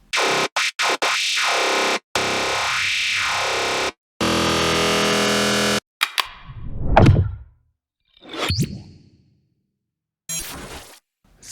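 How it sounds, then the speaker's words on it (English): An FM-style synth lead built in Phase Plant plays a run of metallic, distorted notes. Short stabs come first, then sustained swells and sweeping, clanging tones with gaps between them, loud and dry. "Today I'm gonna show you how to create this very nice FM-ish sound in Phaseplant."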